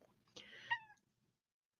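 A house cat gives one short, quiet meow, close by, with near silence after it.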